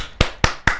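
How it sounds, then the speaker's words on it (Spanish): Three sharp, evenly spaced slaps of feet stamping on the floor as applause on a TV show set, loud and close, each a crisp isolated hit. "Yo aplauso con los pies, está bien."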